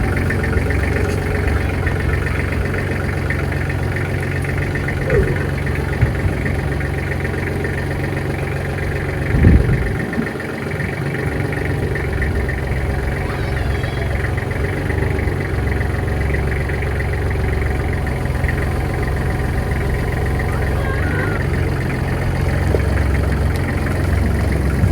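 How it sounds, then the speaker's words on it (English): A farm tractor fitted with a fork attachment runs steadily at idle nearby, a continuous low engine drone with a faint knock and one brief clunk partway through, no talking. "I'm gonna have to go get the tractor and the fork so we can move this thing"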